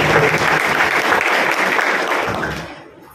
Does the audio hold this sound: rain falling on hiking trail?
no